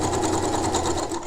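A sewing machine stitches shirring on a garment, a close, fast, even mechanical whir and rapid needle ticking that runs steadily for the whole short stretch.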